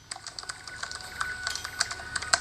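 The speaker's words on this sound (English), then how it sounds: "Here is the sound of the keyboards one more time." Rapid, light typing on the keyboard of an ASUS ZenBook Pro Duo 15 laptop, a run of close, crisp key clicks at an uneven pace with no speech.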